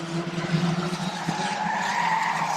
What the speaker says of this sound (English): adding to the noise of the engines, the squeaks of the tyres and the popping of the exhaust